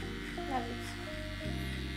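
Electric hair clippers buzz steadily through a haircut in a barber academy setting, a close continuous motor hum whose pitch shifts slightly as the blades cut, with brief clicks near the end.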